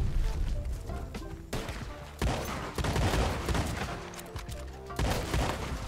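Shotgun blasts boom repeatedly in a Red Dead Online robbery mission at the Braithwaite Mansion, several loud, dense shots spread across a busy game soundscape with background music.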